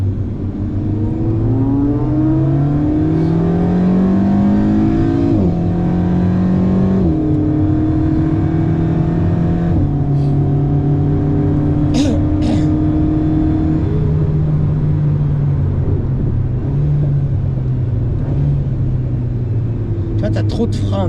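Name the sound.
car accelerating on a race track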